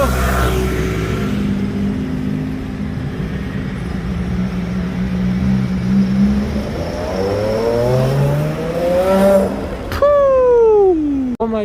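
An Aston Martin One-77 supercar drives past on a Monaco street, its engine loud and close, rising in pitch as it accelerates and then sweeping sharply downward as it passes by.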